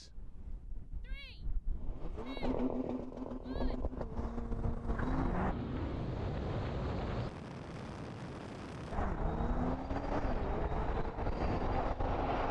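A BMW M8 and a Bentley Continental GT roar and rev up together from a standstill, rising in pitch through quick gear changes, loud and sustained with a brief dip midway.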